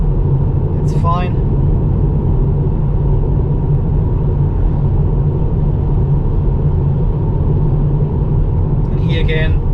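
A Tesla Model 3 rolling over a bumpy stretch of worn tarmac, with gravel on the road: a loud, steady low road rumble and tyre noise fill the cabin throughout, with a couple of brief thumps and rattles as it hits bumps.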